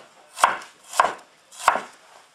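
A knife slicing across a shallot on a flat cutting surface, three crisp, evenly spaced chops heard up close with no voices.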